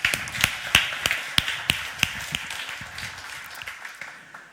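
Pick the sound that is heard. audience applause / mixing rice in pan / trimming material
audience applause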